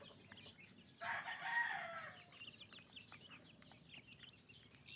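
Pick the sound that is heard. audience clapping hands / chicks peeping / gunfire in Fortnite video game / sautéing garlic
chicks peeping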